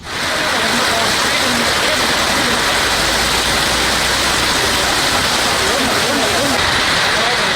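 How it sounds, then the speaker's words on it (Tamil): Heavy rain pours down in Tamil Nadu, a loud, steady, dense hiss of downpour that holds unbroken throughout. "வேப்பந்தட்டை குன்னம் ஆலத்தூர் உள்ளிட்ட பல இடங்களில் கனமழை பெய்தது"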